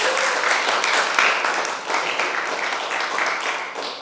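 Applause from a small audience at a poetry slam event, a steady broadband wash of clapping holding for the whole stretch at moderate level.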